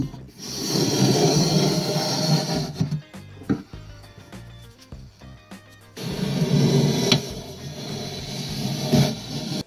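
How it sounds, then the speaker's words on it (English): Coarse rasping of a scraper dragged across wood to remove glue, in two long stretches of steady scraping separated by a few seconds of quieter, scattered scrapes and knocks. "Now I can scrape up the glue with a scraper."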